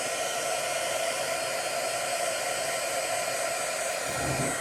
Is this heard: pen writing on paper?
no